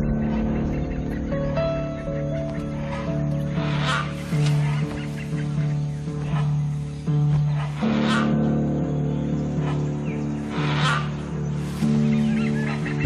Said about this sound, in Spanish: Los calaos se avisan unos a otros del peligro con sus gritos.